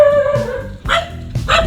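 A puppy barks in short, loud bursts up close, with a sustained whine or whimper tone between the barks.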